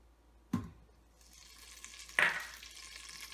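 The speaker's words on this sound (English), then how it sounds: "stir it with a wooden spoon" Butter and oil heating in an Instant Pot on the sauté setting, stirred with a wooden spoon: a sharp knock, then a rising sizzle and a second louder hiss as fat hits hot metal, close and with no talk.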